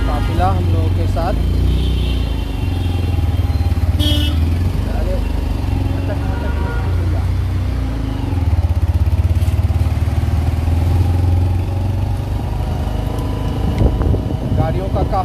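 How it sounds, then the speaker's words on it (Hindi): A convoy of cars and motorcycles rolls slowly toward a ghat, a close, steady engine rumble with shifting drones and occasional higher revving, while people talk over it. "गाड़ियों का काफिला हम लोगों के साथ।"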